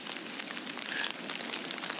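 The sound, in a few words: freezing rain falling on a backpacking trip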